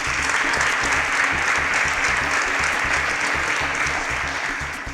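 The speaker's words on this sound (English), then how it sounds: "A round of applause for them" Audience applause for game-show contestants, dense and loud, with steady clapping sustained throughout before easing slightly at the end.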